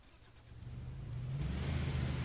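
A car in the Altis Life video game pulls away, its low engine hum swelling steadily louder as it accelerates.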